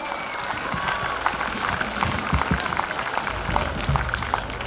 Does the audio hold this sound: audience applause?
yes